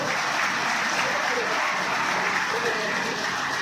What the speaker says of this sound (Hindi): सारी भीड़ खड़ी होकर तालियां बजा के आपका स्वागत करें